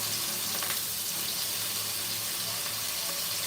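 Carrots and potatoes for pork kaldereta frying in hot oil, a steady soft hiss and sizzle heard close up with nothing else over it.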